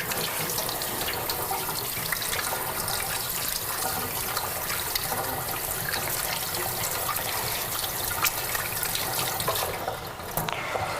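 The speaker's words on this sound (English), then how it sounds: "So I'm just going to wash my hands and we'll tidy up." Tap water runs steadily into a kitchen sink while hands are washed under it, a close, continuous splashing rush that holds evenly for about ten seconds before easing slightly at the end, with no voices.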